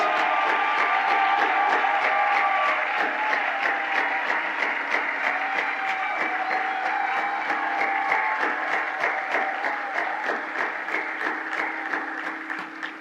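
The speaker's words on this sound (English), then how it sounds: "Just give them a thunderous St. Louis round of applause." Thunderous applause from a large St. Louis audience honoring eighteen women leaders at an awards gala, with dense rhythmic clapping that holds steady for the full stretch, scattered whoops and cheers on top, then slowly thins toward the end.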